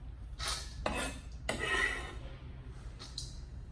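Thin kohlrabi slices tumble into a bowl in a few short clattering bursts against a soft room hum, with no one speaking.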